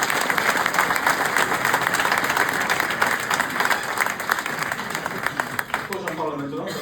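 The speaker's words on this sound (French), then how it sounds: "Vous pouvez l'applaudir, Viviane." An audience at a public political meeting in Mazamet breaks into sustained applause, a dense wash of clapping that thins slightly near the end, with a voice faintly audible beneath.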